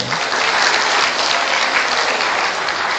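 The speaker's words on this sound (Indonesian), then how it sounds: "Tepuk tangan dong" Steady, full applause from new law students at a university orientation session, a thick wash of clapping at constant loudness throughout the short stretch.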